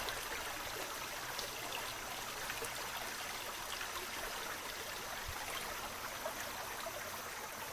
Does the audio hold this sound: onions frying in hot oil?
no